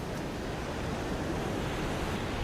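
Ocean surf at the mouth of the Rekifune River in Hokkaido, a continuous broad wash of waves with wind noise, steady and moderately loud with no voices.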